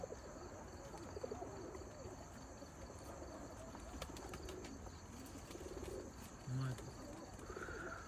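Faint, low cooing from pigeons inside a loft repeats over a constant background hiss. One call near the end is a little louder, and a voice is heard in the background.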